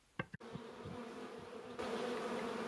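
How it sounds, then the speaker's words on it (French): A swarm of honeybees flies around a roof, giving a steady close buzzing drone that carries on throughout and grows louder near the end, with no one talking. "une partie de l'essaim continuait à retourner dans le toit"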